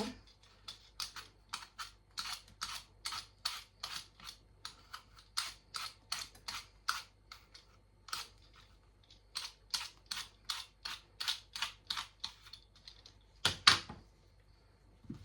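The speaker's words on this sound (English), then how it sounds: "Try and use a potato peeler. It's faster." Apples being peeled with a potato peeler, a steady series of short, crisp scraping strokes in quick rhythm, close by and fairly quiet, with a louder clatter near the end and no talking.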